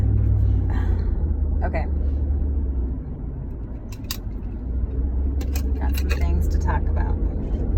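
Steady low interior rumble of a car on the move, continuous throughout beneath someone talking close by.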